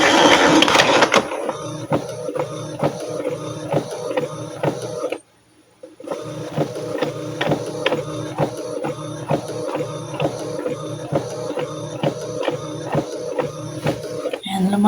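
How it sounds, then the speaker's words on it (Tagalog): A printer runs with a steady, rhythmic mechanical clatter that stops for about a second and then resumes, loud and close. "Pakawanan ko ito itong printer kay eh, maingay."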